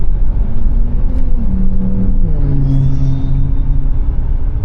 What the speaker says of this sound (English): Little turbocharged R8 there.